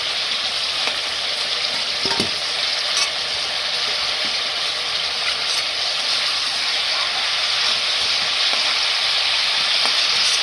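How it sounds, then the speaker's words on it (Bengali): Chicken pieces frying in hot oil in a pan until browned, a loud continuous sizzle with a few stirring clatters throughout, with no voices. "মাংসটা আমি লাল লাল করে ভেজে নিলাম।"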